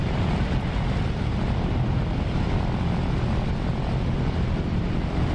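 A Fw-190 fighter's piston engine idles before taxiing in the DCS flight simulator, a loud, dense, unbroken propeller drone with heavy low rumble holding steady throughout.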